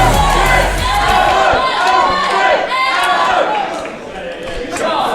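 A packed wrestling crowd at a Creation Pro show roars and chants loudly and continuously, a dense wall of cheering and shouting voices.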